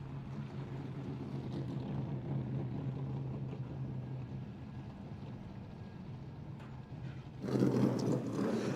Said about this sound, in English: Listen to the sound of those stock cars.